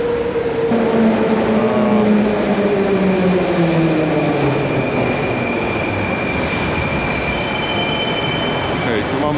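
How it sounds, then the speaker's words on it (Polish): Moscow metro train on the red line pulling into a station, loud wheel and motor whine gliding downward with squealing tones and steady rumble throughout, close by on the platform. "To metro, które teraz przyjechało"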